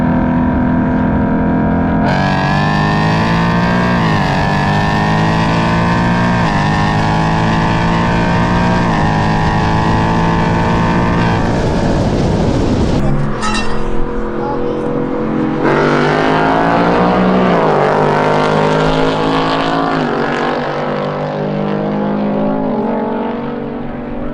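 Cars racing, among them a BMW 335i coupe, with loud sustained engine roar rising through the gears, a brief break, then another hard acceleration pull, close and continuous without talk.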